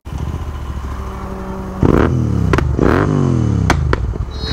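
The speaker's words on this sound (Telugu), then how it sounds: "దీన్ని ఎగ్జాస్ట్ సౌండ్ చూడండి" A motorcycle, either an Aprilia RS 457 or a Continental GT 650, idles close by and then gets two sharp throttle blips, each a loud exhaust bark that winds back down, ending in brief clatter.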